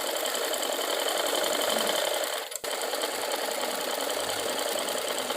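A sewing machine stitches a half-inch fabric belt onto a child's frock. Its steady, close, rapid whir is interrupted by one brief stop partway through, then it continues evenly.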